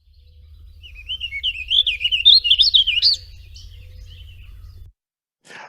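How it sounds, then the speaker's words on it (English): A warbling vireo sings a fast, complex warbled phrase of rising and falling notes lasting about two seconds, clear and moderately near over a low steady hum, followed by a brief soft sound at the end. "the warbling vireo is the next one that I think got mentioned. And this is a bird that has a very complicated song."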